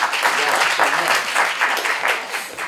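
Audience at a Légion d'honneur award ceremony for Serge Tisseron breaks into brief applause, a full, steady burst of clapping lasting a few seconds.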